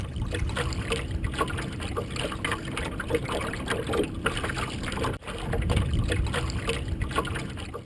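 Water laps and slaps steadily against a small cedar wooden boat's hull sailing to windward on a bay, a continuous close splashing with a brief dip partway through.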